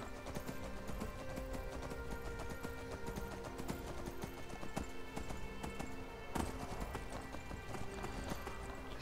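A horse's hooves clip-clop steadily in the video game Skyrim, a continuous run of close, even hoofbeats over a busy game ambience, with no talking.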